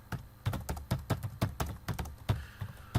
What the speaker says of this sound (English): so I can type it in